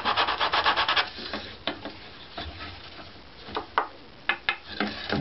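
A luthier's hand tool shaves and scrapes wood from a violin bass bar in close, dry rubbing strokes: a quick run of rhythmic scrapes, then slower, scattered passes with pauses between them.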